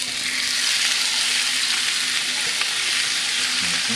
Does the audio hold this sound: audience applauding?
no